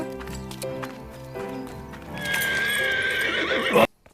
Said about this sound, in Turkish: Kariyel vahşi bir at.